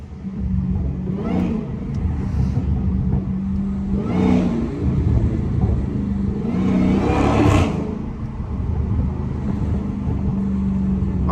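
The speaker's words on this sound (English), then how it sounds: "I'm talking about the exhaust be echoing off these buildings so hard." A Dodge Hellcat on a city drive among buildings gives three loud exhaust revving bursts spaced a few seconds apart over a continuous engine rumble, with no talking.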